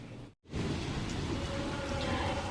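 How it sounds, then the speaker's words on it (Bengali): Light drizzle falls steadily as a broad, soft hiss close by, with a low rumble of distant thunder beneath it, briefly cut by a moment of silence near the start. "এই টিপ টিপ করে বৃষ্টি পড়ছে আর মেঘ ডাকছে"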